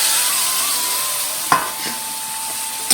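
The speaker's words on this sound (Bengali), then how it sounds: "এরপর আমি দিয়ে দিচ্ছি থোর সেদ্ধটাকে" Boiled banana stem being stirred into cooked spices in a pan: a steady hissing sizzle with a sharp scrape or knock partway through and a softer one after, with no talking.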